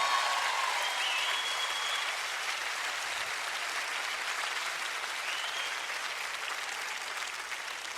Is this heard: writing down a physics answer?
no